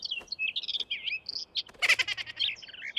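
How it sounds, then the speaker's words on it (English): Cartoon mockingbirds in a chimney chirp and tweet rapidly in quick bright bursts, close and clear, with a brief noisy flurry in the middle and no talk. "low-life, filthy mockingbirds doing clogging up my chimney?"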